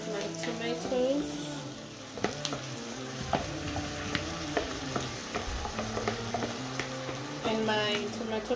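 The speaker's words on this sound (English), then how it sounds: "I just added my spices in there, and then I'm gonna add my tomatoes" Spices and tomatoes frying and being stirred in a home-kitchen pot, a soft continuous sizzle broken by scattered clicks and scrapes of a spoon, moderately loud, with background voices and music-like tones.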